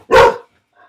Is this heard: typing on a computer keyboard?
no